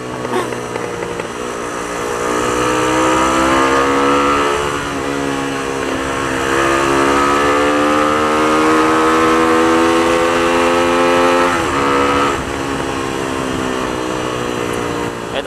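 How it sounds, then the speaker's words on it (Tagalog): A Motorstar Z200S motorcycle with its stock exhaust pipe drones loudly while riding, the engine note rising and falling steadily through gear changes over about fifteen seconds of continuous close-up exhaust noise. "nabibingi ko ang ingay ng stock pipe."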